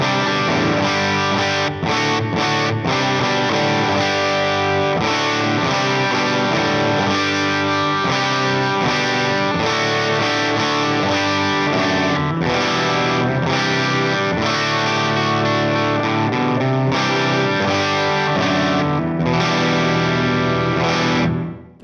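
Electric guitar through a Friedman Runt amp on the bridge humbucker, heavily distorted with some reverb: sustained, dense overdriven chords and riffs played continuously and loud, with no talking.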